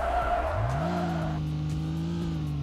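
A light, tuneable Honda Civic in the video game Denizen drives with a rising engine hum and a clear tire squeal as it skids, the squeal dropping away midway while the engine note holds steady.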